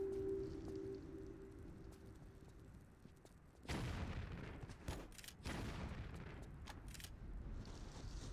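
Heavy grenade blasts boom in Tomb Raider: The Last Revelation, a loud low burst hitting at once, then a second close detonation with rumbling debris and crackling that carries on through the rest of the moment.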